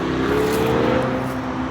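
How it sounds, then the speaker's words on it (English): A car passing on a road in Gatlinburg sounds like a race car, a loud steady engine drone and hum heard up close from inside a vehicle for under two seconds. "Oh, that was like a race car there."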